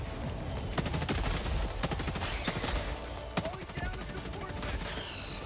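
Rapid bursts of gunfire from Helldivers 2 crackle in close, uneven volleys throughout, machine-gun rattles mixed with single sharp shots, while players talk over the action.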